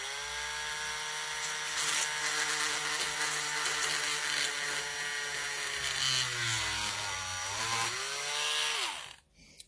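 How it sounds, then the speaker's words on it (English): A Dremel Stylus rotary tool on low speed drives a 0.9 mm drill bit through the center of a plastic toy part, giving a steady, close whine that wavers in pitch as the bit bites, then cuts off at the end. "we're going to go ahead and drill through this as well. I'm on a Dremel stylus."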